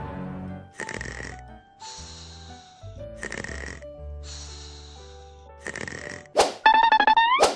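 A sleeping child snores loudly and close by, in four or five long, rasping breaths with short pauses between them. A higher squeaky, whistling wheeze comes near the end.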